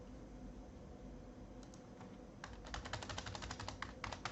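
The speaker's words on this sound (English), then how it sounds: "let me type here 1" Typing on a computer keyboard: a quiet, steady background hum at first, then a burst of rapid, close keystroke clicks in an uneven rhythm over the second half, with no voices.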